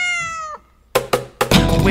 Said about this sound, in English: The cat, it goes like this.